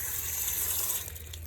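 Water poured onto soil in a plant pot prepared for an orange tree, a steady close gushing and splashing that runs evenly for the whole short stretch with no talking.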